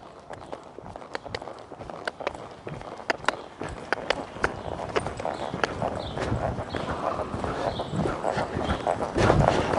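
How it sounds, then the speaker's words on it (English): A ridden horse's hooves clop rhythmically on the ground, the beat quickening and growing louder as the mare is asked up from a walk into a lope. "I'm going to see if I can pick her up into a lope"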